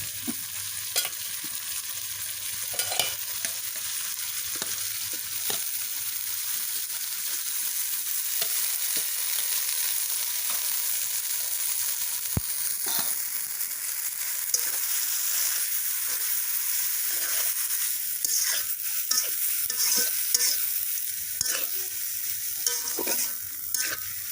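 Spice paste sautéed and stirred in a pan for a Bengali prawn and banana stem curry, a soft continuous sizzle with frequent scraping of a spoon, going on steadily for a long stretch.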